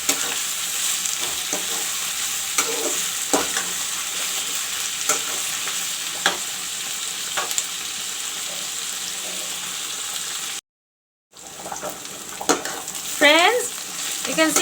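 Chopped onion sizzling steadily in a pan for a chicken curry, with regular scrapes and clicks of a spoon stirring through it, close and continuous apart from a brief silent gap near the end.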